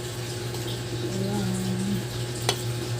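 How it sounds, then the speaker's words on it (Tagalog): Pancake batter of milk, sugar and baking powder stirred in a bowl, a steady soft swishing scrape beneath a constant low hum, with a brief clink near the end. "Haluin ko muna ang aking gagawin na pancake."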